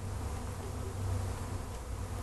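A swarm of honeybees buzzing around a hive box during a swarm capture outdoors, a dense continuous drone of many insects close by, steady and moderately loud with no voices.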